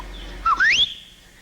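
A person imitates a coach's attention whistle with the mouth, a short rising note followed by a longer upward-sweeping whistle, close and clear against a quiet room.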